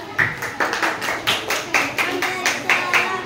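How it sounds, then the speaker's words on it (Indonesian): An audience claps for a group at a gathering in a rhythmic, evenly spaced pattern of about a dozen sharp beats, close and fairly loud, with faint background noise between claps. "Kalau tepuk tangan buat Singapura"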